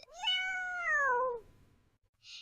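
A single drawn-out cat meow with a falling pitch, clear and close, followed by a short soft hiss after a pause.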